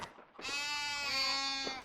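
A single sheep bleats in the video game Five Guardians of David, one close, wavering bleat lasting over a second, with no speech.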